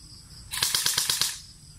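An airsoft gun fires in full-auto mode: a quick burst of about six sharp, evenly spaced shots, close and loud against a quiet background.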